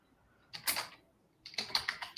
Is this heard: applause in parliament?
no